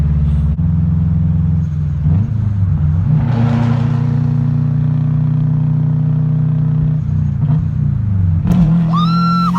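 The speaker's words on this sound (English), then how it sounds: "that is Dylan's insane big turbo WRX" A big-turbo Subaru WRX engine roars loudly from close by, its pitch climbing and falling through several revs and shifts, with a brief turbo whistle near the end.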